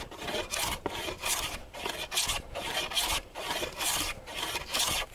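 Hand plane taking repeated full strokes along a laminated wooden workbench top, a steady rasping shave sounding roughly every second in an even back-and-forth rhythm, close and fairly loud, with no talk.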